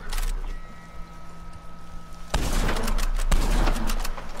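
Gunshots in Red Dead Redemption 2 Online, a sharp loud shot after a quiet stretch followed by another blast and a rattle of firearm noise.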